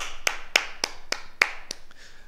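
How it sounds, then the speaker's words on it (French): A small group in a martial-movement class claps in sharp unison, six or seven distinct claps at an even, fairly quick pace, close by and alone, with no talk. "On s'applaudit encore."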